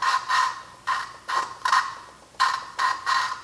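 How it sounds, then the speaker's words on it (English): A valve on a 1996 Honda Accord is lapped against its seat, giving rhythmic raspy grinding strokes back and forth, about two to three per second in short bursts, close and clear with no talk. "sometimes it'll grind a little more, and I'll just grind it down again until it's nice and smooth"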